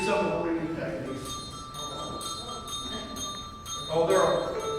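Handbells ring with steady, lingering tones, demonstrating ringing techniques under ongoing talking, the chimes sustaining and overlapping with a brief brighter strike near the end.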